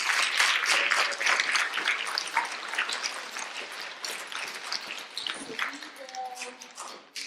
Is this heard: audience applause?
yes